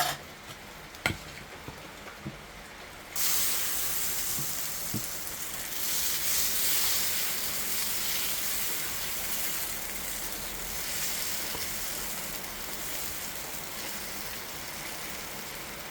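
Appam batter cooking in an oiled pan on a stove, a steady close sizzle and hiss that starts after a few light clinks and continues loudly and evenly, with heavy rain falling outside in Thiruvananthapuram.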